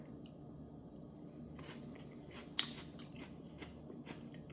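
Someone bites and chews a crunchy homemade penne pasta substitute made from garden produce, served with bolognese; faint, close crunching with one sharp bite in the middle over a low steady background hum.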